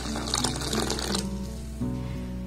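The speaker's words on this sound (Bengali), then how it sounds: "এবার দেখুন যে দুধটাকে আমি খুব ভালোভাবে ফুটিয়ে ঘন করলাম সেই দুধটার মধ্যে দিয়ে দেব" Thickened boiled milk pours into a pan of cooked carrots, a steady close splashing stream over a constant low background hum, thinning out partway through.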